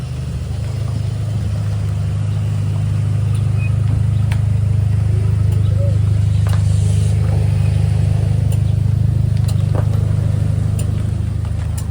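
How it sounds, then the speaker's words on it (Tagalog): A car engine runs with a loud, steady low drone close by for the whole stretch, with only faint clicks and no speech. "Ito yung kotse."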